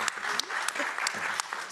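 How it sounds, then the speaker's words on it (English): A crowd at a film screening and discussion applauds a panelist. The clapping is moderately soft and continuous, with a few sharper individual claps standing out. "Let's give him a round of applause."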